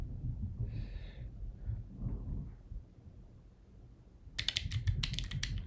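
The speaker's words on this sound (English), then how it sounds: "Is the keyboard too loud?" Rapid clacking keystrokes on a computer keyboard burst in near the end, close and crisp, after a stretch of low room rumble and a faint electronic tone.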